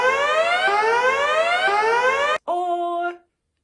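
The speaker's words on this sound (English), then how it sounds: "we perhaps hear a siren or a bell," A loud wailing siren holds a steadily rising tone, cuts off briefly, then returns as a shorter steady blast before stopping abruptly.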